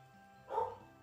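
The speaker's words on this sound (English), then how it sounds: "Again, sorry about the dog. He loves barking." A dog gives a single short, muffled bark at a distance, heard alone against quiet room background.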